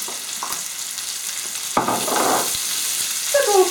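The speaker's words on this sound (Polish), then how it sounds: "Wrzucam teraz kiełbaskę. Chwilę podsmażę i na koniec dorzucę cebulkę." Bacon, sausage and onion frying together in a pan, a soft sizzle that swells sharply as more food drops in, then a steady crackle with a few utensil clinks near the end, close by with no talk.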